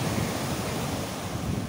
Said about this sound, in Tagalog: malakas ang alon dito guys sa full wave